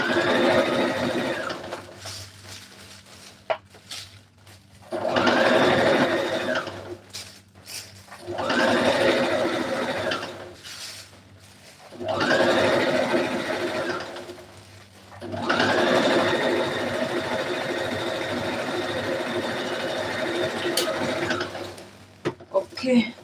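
Sewing machine stitching a dress made of plastic bags along an armhole, running in four rhythmic bursts of rapid mechanical chatter separated by pauses, with the last run longest and someone speaking in the gaps.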